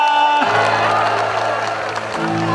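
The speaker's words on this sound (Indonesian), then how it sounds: "berikan tepuk tangan saudara" A crowd at an Easter celebration at Monas in Jakarta breaks into applause and cheering, a broad, continuous roar of hands and voices over steady tonal music.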